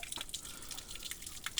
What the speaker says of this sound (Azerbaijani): Amma yenə də bulaq suydur da, dağdan gəlir.